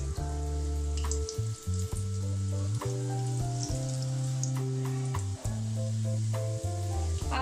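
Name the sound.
dahi bhalla lentil dumplings frying in oil on low flame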